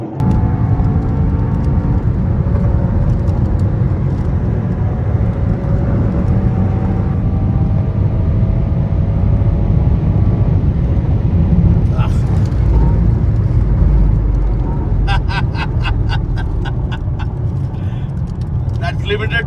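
A Mercedes-AMG S63 E Performance driving fast on an expressway, a steady loud roar of engine, tyres and wind that holds throughout, heard from inside, with a voice coming through now and then.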